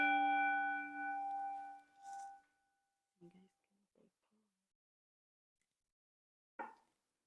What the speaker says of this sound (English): So when I ring the bell,